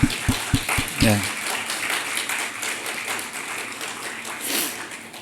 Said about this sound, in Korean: 다시 한번 우리 격려 박수 한번 합시다